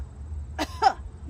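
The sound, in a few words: cough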